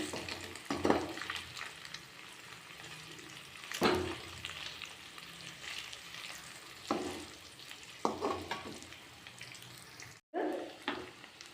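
Egg frying in a pan makes a soft, steady sizzle close by. A spatula stirs and scrapes it at intervals, and there is no talking.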